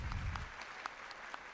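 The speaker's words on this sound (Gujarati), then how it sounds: "તાળીઓથી હોલ ગુંજવો જોઈએ ભાઈ" Applause from an audience in a hall at a primary teachers' association Women's Day event, a dense wash of clapping with a low rumble fading early, moderately distant and steady.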